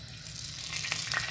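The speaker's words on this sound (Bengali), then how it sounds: "এবার তাওয়াতে একটু তেল দিয়ে দেবো ডিমটা ভাজার জন্য।" Beaten egg frying in a little oil on a griddle, a soft sizzle that grows a bit louder and crackles faintly toward the end.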